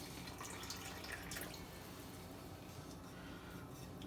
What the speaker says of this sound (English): Then we're going to take our water and pour about half of it into the middle of that well.